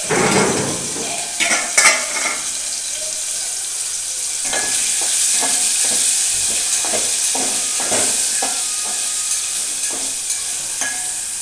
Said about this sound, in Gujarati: ચાલો આપણે પનીરને થોડું ફ્રાય કરી લઈએ.